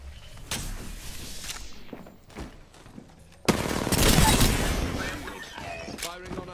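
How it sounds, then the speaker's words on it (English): Gunfire in the shooter game Apex Legends: a couple of sharp single shots, then a loud, dense automatic burst lasting over a second, followed by scattered quieter reports. "Firing on our foes."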